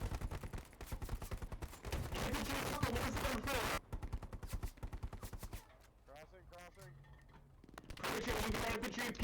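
Sustained suppressing gunfire in a military video game, loud rapid bursts of automatic fire with brief pauses, close and dominant, with voices talking over it.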